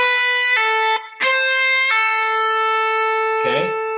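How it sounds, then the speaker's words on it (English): Firm pull-offs on a distorted electric guitar ring out loud and close, a held note stepping down cleanly several times with brief pick attacks and a short gap, no voice over it. "And then pull-offs, same way. Good solid pull-offs."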